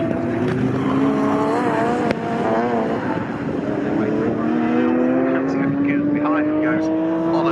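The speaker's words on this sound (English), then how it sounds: "So the dark blue TVR Tuscan with the two white stripes down the centre of it, under pressure from the dark blue BMW E36 M3 of Carl Catliff." At a Snetterton modern classics race, a TVR Tuscan and a BMW E36 M3 roar past, engines rising steadily in pitch under continuous excited race commentary.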